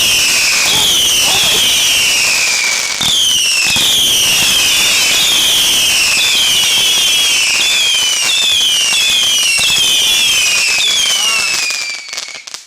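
Canada Day fireworks finale: a loud, dense barrage of rapid shots and crackling bursts going off almost without pause for about twelve seconds, with whistling rising trails throughout and cheering voices under the noise.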